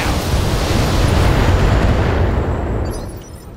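Weapon fire explosions in the BattleTech video game, a dense rumbling blast that rolls on for a few seconds and fades away, loud and close with no talk over it.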